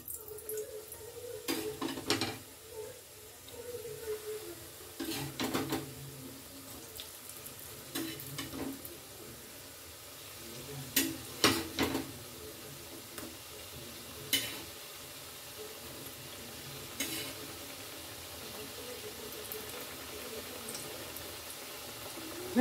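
Sattu-filled khasta kachoris frying in hot oil give a gentle steady bubbling sizzle, punctuated every few seconds by brief louder splashes and spoon clinks, with no talking.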